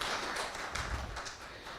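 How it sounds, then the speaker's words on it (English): A crowd applauds a speaker at the close of a Jagannath Katha talk by Balram Das, giving a soft, steady, fairly distant patter of many hands for the whole span. "give a big round of applause to our speaker Balram today"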